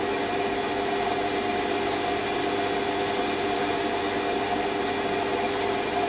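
A metal lathe spinning at about 750 RPM while a cutting tool turns a part for a ball turning tool, giving a steady, loud, continuous whirring hum with a high whine and no pauses.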